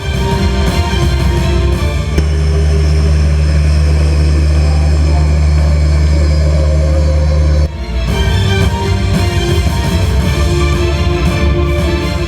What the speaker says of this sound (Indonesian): pesawat angkut udara Airbus A400M memiliki kemampuan unik